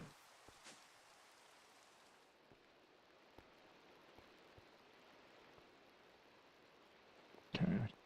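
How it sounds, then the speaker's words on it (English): Soft, steady rain hiss with faint scattered drop ticks in the video game GregTech: New Horizons, ending in a brief louder burst of noise near the close. "But I don't mind the gentle rain sound."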